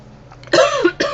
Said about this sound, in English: I just decided to have a coughing fit there for a second.